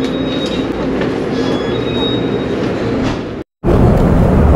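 Inside a moving regular passenger train in Taiwan: a steady loud rumble of wheels and carriage, thin squealing tones above it, and a brief sudden dropout before the rumble returns, with no talk.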